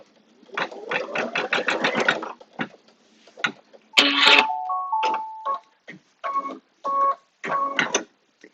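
An embroidery machine stitches a placement line for elastic on a quilted notebook cover. Short bursts of whirring stitching are broken by pauses, with a few tonal beeps partway through.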